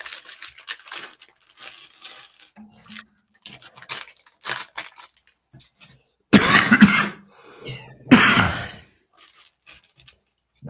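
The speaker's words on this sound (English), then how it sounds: "Nice healthy sounding cough you've got there" A man's coughing fits during a late-night livestream while building a Lego set: two loud, harsh bursts close to the mic, preceded by scattered soft clicks and rustling of plastic pieces.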